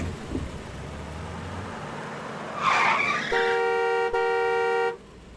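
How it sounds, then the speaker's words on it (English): A car backs quickly out of a driveway in an audio drama scene: a short tire screech rises, then a long, loud, steady car horn blares for well over a second before cutting off. "Ta starts the car and quickly backs out of the driveway."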